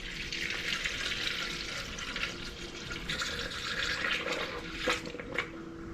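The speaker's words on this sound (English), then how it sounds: "I'll go ahead and dump some coolant in here" Premixed Prestone coolant pours from an old bottle into the cooling system of a turbocharged Honda Civic, a steady gurgling liquid stream that runs continuously at moderate loudness, with a couple of sloshing glugs near the end.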